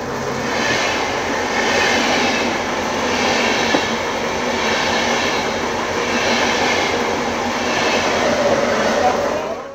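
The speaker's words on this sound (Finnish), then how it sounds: "Se juna tulee." A train rumbles steadily past in Finland, a loud continuous roar with rhythmic clatter from the wheels, close by throughout.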